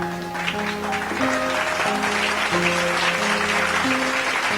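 A church congregation applauding in praise of Jesus, a dense continuous wash of clapping under sustained organ-like chords, loud and close.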